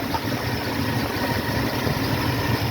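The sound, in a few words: 1976 Ford F150 engine idling hot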